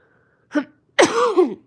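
A short throat-clearing rasp, then a louder, rougher cough with a strained voiced tail, close and alone in a quiet room.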